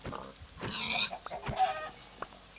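Chickens clucking in the video game Minecraft, a few brief clucks and squawks in quick succession at moderate volume, with no voices over them.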